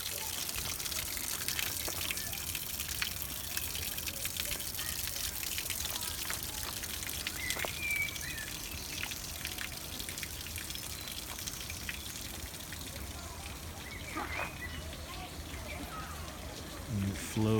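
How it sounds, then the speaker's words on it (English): A small garden waterfall pouring into ponds in a walled garden, a soft continuous splash and trickle that stays faint and steady throughout. "Oh, we've got this lovely little waterfall."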